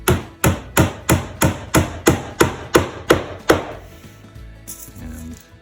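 Hammer blows drive brass canvas tacks into the ribs of a canvas-covered canoe under restoration: about ten sharp, evenly spaced taps close by, then quiet handling noise.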